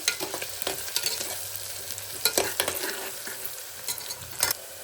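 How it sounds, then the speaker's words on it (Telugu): Onions and curry leaves fry in a pan in an Indian home kitchen, a steady sizzling hiss broken by scraping stirs and clinks of a spoon, close and alone without talk. "కరివేపాకు కూడా బాగా ఆనియన్స్ రెడ్ కలర్ వచ్చేంత వరకు బాగా మంచిగా ఫ్రై చేసుకోవాలి"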